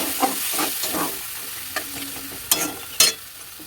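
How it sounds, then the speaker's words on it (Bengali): Masala with ginger and a splash of water stirred and fried for a spicy clam curry: repeated scraping strokes through a soft, steady sizzle, with a few sharper knocks of the spoon near the end. "তো এবার এটাকে ভালো করে আমি একটু কষে নেব।"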